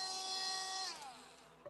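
A cordless Dremel rotary tool motor gives off a faint, thin, high whine that holds steady and then glides down in pitch as it winds down, ending with a small click.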